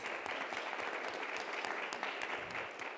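Steady audience applause at a conference session on funding food waste solutions, many hands clapping in a dense, even wash that tapers slightly at the end.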